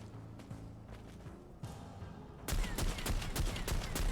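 Rapid gunfire from the turn-based video game Necromunda: Underhive Wars, with scattered shots building into a loud, dense burst of repeated bangs in the final second and a half.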